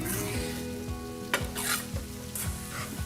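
Finely sliced onion sizzling in a knob of butter in a pan, a loud close hiss with several rhythmic stirring scrapes and no talk.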